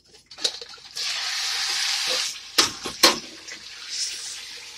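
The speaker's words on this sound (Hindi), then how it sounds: "इसको इसके साथ ऑयल में गरम मसाले के साथ थोड़ी देर भूनूंगी।" Beef being fried in oil with whole garam masala spices, a broad hissing sizzle that rises after a second and holds steady, broken by a few sharp clanks of a utensil against the pan, with no voices.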